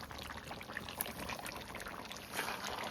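Hot water poured into a pot of simmering meat curry, a steady close splashing trickle that runs continuously, with a soft brief bump near the middle.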